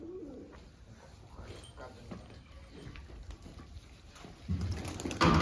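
Pigeons coo softly amid light background noise and shuffling as they bathe, with a louder burst of sound near the end.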